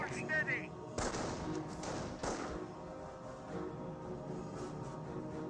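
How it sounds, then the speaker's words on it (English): Sniper rifle shots and battle noise in the strategy game Company of Heroes, with a couple of sharp reports near the start amid a continuous rumble of combat and game effects. "Wehrmacht sniper firing away."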